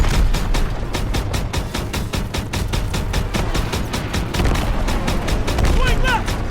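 Rapid WWII weapon fire in Call of Duty: WWII gameplay, with dense bursts of gunshots and booming blasts, loud and close, while voices shout over the battle.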